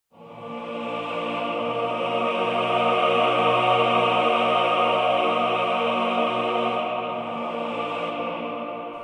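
Sampled tenor choir voices swell in and sustain a lower, full chord in an orchestral mix, holding steadily for several seconds before easing away.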